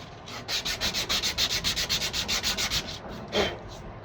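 Hand sanding with 220 grit sandpaper: about fifteen quick, even back-and-forth strokes, close and clear, with a brief pause and one final stroke near the end. No voices.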